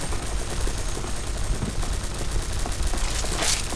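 Rapid automatic gunfire in a video game, a dense continuous rattle of shots at steady volume with no pauses across the short stretch.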